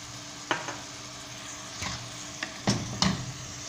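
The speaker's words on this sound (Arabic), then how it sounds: "نخليو هذاك اللحم يتقلى" Minced meat seasoned with black pepper, salt and ras el hanout fries in a pan under a steady sizzle, with scattered spatula scrapes and clinks near the end, close up and with no talking.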